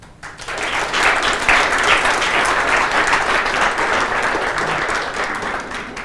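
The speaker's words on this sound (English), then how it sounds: "So big round of applause for the sponsors." An indoor tech conference audience at Drupal Camp Alpe-Adria 2014 breaks into loud, sustained applause for the event sponsors, a dense, even wash of clapping that builds quickly and holds for several seconds.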